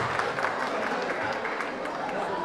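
A school audience at the Parmanu Defence Aahwan Euphoria 2025-26 event claps with both hands raised. The applause is dense, continuous and fairly loud, holding steady throughout.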